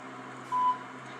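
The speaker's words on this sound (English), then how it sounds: "Reached the voicemail box of 917-378-0176." A single short electronic tone marks the start of recording on a phone voicemail, sounding briefly over a quiet line hum.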